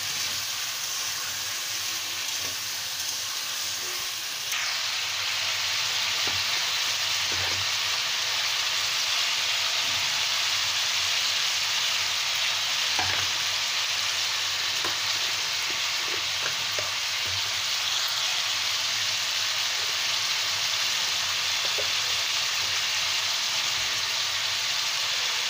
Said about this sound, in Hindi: सहजन हमारा ये है, इसमें इसको हम उबाले नहीं है, भूजते हैं तो मसाला के साथ ही इसको पकाएंगे।